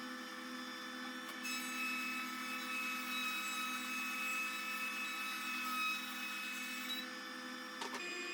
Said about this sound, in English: now within about 35 to 40 seconds, we change over into planer mode and we're going to pass the board through